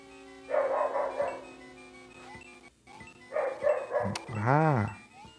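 Dogs barking in short bursts from nearby, two clusters of barks with a whining, howling yelp near the end, a voice also heard.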